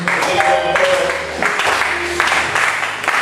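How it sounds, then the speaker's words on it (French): Church congregation clapping together during a French-language sermon, a dense, steady round of applause with a few voices mixed in under the clapping throughout. "Applaudissez pour le Seigneur."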